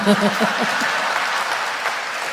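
An audience at a live conversation event breaks into dense, sustained applause close at hand. Faint talk sits at the start, then continuous clapping fills the rest.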